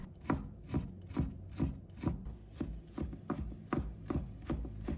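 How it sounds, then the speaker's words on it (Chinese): A knife chops fresh ginger on a cutting board, slicing it, cutting it into strips, then mincing it, with steady, evenly spaced thuds about twice a second, close and clear with no talking. "再准备1小块的生姜，把它切成片，再切成丝， 然后切成末。"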